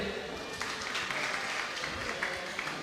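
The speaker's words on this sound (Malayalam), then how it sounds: "അവർക്ക് ക്ലാപ്പ് കൊടുത്ത" An audience gives a short round of clapping for a few parents who raised their hands during a parenting talk, a dense patter of claps that stays steady, with a voice talking over it.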